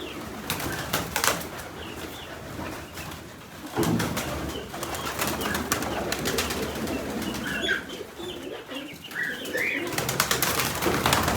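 Pigeons coo and murmur in a busy, noisy setting, with occasional wing flaps and bird calls over steady background clatter.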